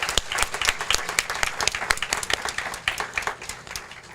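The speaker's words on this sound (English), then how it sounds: "let's give a round of applause for Miss Angelina Vasquez" Audience at a graduation award ceremony applauding a graduate, brisk dense clapping from many hands that holds steady throughout.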